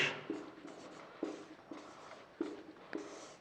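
Someone writes on a board during a Hindi-language class 12 maths lesson on vectors. There are about six short, scratchy strokes at an uneven rhythm, close and fairly quiet, with no voice over them.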